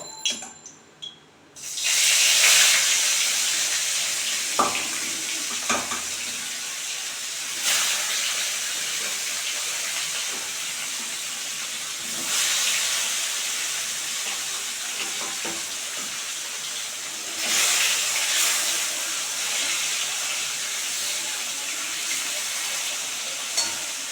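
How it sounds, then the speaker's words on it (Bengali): Fish pieces go into hot oil in a pan, a sudden burst of loud hissing sizzle that settles into a steady crackling fry, swelling again several times as the fish is moved, heard close with no talk. "তেলও গরম হয়ে গেছে এখন আমি মাছগুলি দিয়ে দেবো"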